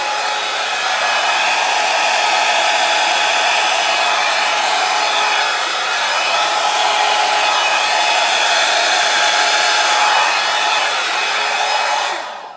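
A hair dryer blows across wet acrylic paint in a Dutch pour, a loud steady close-up roar of air that runs unbroken for several seconds before cutting off at the end.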